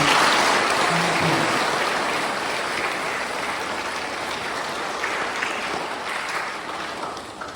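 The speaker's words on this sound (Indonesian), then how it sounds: "Kita beri tepuk tangan untuk pembina OSIS" Applause from an audience honoring student council advisors at a high school student council candidate debate in Merauke, Papua: dense, steady clapping filling the hall throughout and easing off slightly toward the end.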